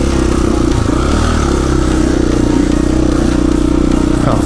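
A KTM 500 EXC-F dual sport motorcycle labors close up over a trail obstacle, its single-cylinder engine thumping loud and continuous with rattling chassis clatter throughout.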